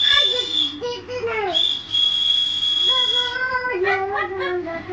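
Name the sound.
toy whistle being blown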